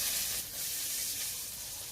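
Chopped onion dropped into hot oil along with whole cumin and a torn bay leaf for an egg and potato curry, giving a steady, bright sizzle and hiss with no talking.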